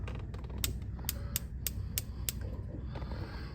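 A propane heater's pilot knob is pushed down, making a series of sharp, evenly spaced mechanical clicks close by over a low background hum.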